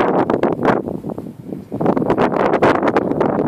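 Wind buffeting a phone microphone outdoors in woods at night, loud rumbling gusts that swell and surge almost continuously, briefly easing midway before roaring back.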